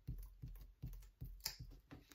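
A soft rubber glue eraser rubs off double-sided tape from paper in quick, faint scrubbing strokes, a rhythmic series of short, close frictional scuffs.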